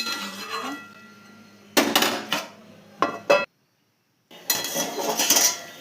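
Metal pot lid set onto a cooking pot of Bengali-style vegetables, sharp clanks and clinks in several separate bursts with short gaps, close and fairly loud in a quiet kitchen.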